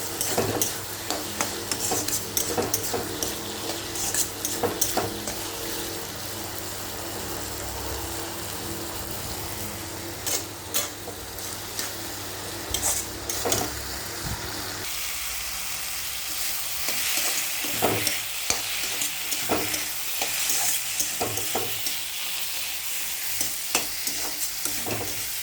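Bottle gourd fries with ground cumin and coriander in a pan, giving a steady crackling sizzle punctuated by frequent spatula scrapes and stirs; the sizzle thins and brightens partway through as the stirring continues.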